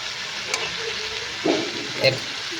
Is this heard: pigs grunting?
no